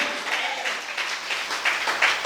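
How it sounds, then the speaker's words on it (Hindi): A church congregation at a Christian service in Itanagar claps loudly together, a dense continuous patter with some sharper claps standing out. It stays steady and close throughout the short stretch. "जोर से ताली बजाओ।"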